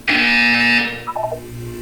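A loud, steady electronic buzzer tone from the Portal 2 video game, holding for about three-quarters of a second before cutting off, followed by a few soft, brief tonal blips.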